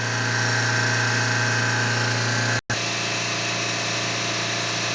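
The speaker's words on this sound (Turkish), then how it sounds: "Kendi kendine kendi kendine gaz yiyor araba. Yüksek devirde çalışıyor." A Fiat Doblo 1.3 Multijet diesel engine revs on its own, a steady, loud drone holding a constant high pitch throughout, broken by a brief dropout midway, with no change in revs.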